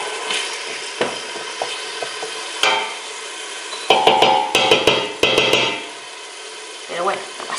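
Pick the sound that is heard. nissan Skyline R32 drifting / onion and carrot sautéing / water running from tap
onion and carrot sautéing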